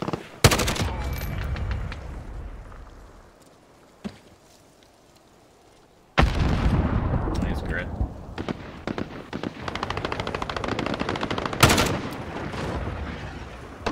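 M4 rifle fire in a shooter video game comes in loud bursts and rapid strings of shots, with a quieter gap in the middle, then dense automatic fire mixed with game effects; a player talks over parts of it.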